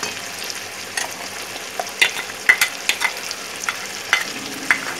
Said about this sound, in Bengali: এবার আমি মশলাটাকে একটু ভালোভাবে কষিয়ে নেবো।